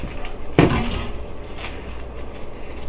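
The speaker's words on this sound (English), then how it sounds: "what I'm going to do is place them directly on the air fryer oven rack" Burgers set down on a metal air fryer oven rack, giving one sharp clatter of contact followed by a faint rattle, then low background hum.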